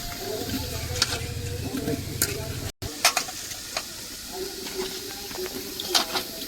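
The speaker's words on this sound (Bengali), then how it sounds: "জল ফুটছে, সেই জলের মধ্যেই কিন্তু কচু শাক দেওয়া হচ্ছে এখন।" Taro greens go into a large pot of boiling water, bringing a bubbling sizzle and hiss with scattered stirring clicks and splashes, close and moderately loud, after a brief dropout partway through.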